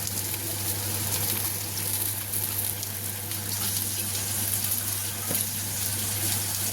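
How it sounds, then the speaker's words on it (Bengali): A splash of water hits spices frying in a pan with salt, turmeric and cumin, giving a loud, steady hiss and bubbling sizzle close up that continues throughout without talk. "দিয়ে দিলাম এটা একটু সামান্য জল, যাতে মশলাটা না পুড়ে যায়"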